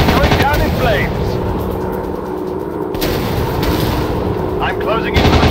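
Aircraft guns rattling in a WW2 dogfight video game, dense continuous gunfire over a roaring engine drone, loud and steady, with brief bursts standing out near the start and end.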